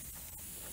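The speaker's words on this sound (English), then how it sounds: "I go to spray," An airbrush whose needle nut was left loose gives a brief, thin hiss of spray, a short weak burst of air with little coming out.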